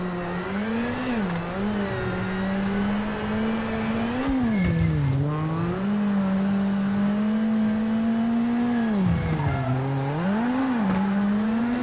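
A rally car engine in WRC7, at Rally France, drones and revs continuously through corners, pitch swinging up and down with throttle changes, loud and close with faint tire scrubbing and no talk.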